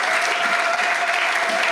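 Church congregation clapping steadily in sustained, dense applause that fills the whole moment, loud and close, with no voices over it.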